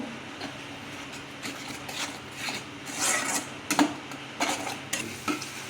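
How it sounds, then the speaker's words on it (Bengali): Ginger-garlic paste and onion paste masala with salt scraped and stirred in a pan for an egg curry, with steady frying hiss under repeated utensil rasps and scrapes, close and moderately loud. "এবার মশলাটাকে একটু ভালো করে আমি ভেজে নেব।"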